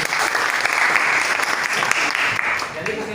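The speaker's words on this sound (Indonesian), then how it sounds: "Tepuk tangan untuk Aura" A classroom of students clapping for a classmate named Aura, a brief burst of dense applause lasting about three seconds before it tapers off under a voice.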